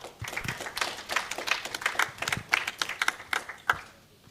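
Audience applause for a lecturer from Mzumbe University being welcomed onto a conference stage: a brief run of scattered, crisp handclaps that thins out and stops, with no talking over it.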